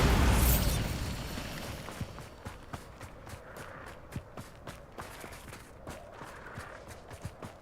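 A Bombarda explosion spell in the Hogwarts Legacy video game opens with a loud burst that quickly fades into rubble-like clatter, followed by a string of light, rhythmic tapping steps.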